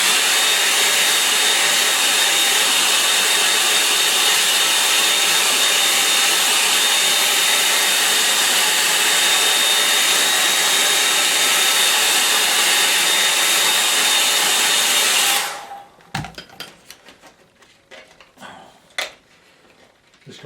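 A hair dryer blows steadily and loudly for about fifteen seconds to dry a watercolour painting, then switches off, leaving a few faint clicks and taps.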